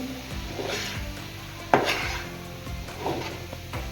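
A utensil mixes maida flour in a bowl for Ramadan patties and rolls, giving soft scraping and a few clinking knocks against the bowl, with one sharper clatter partway through. There is no talking.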